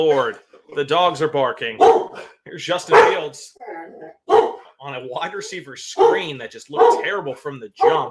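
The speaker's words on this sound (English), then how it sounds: "The dogs are barking." Dogs bark in short bursts close by while someone talks steadily over them during a Michigan State vs Ohio State football broadcast.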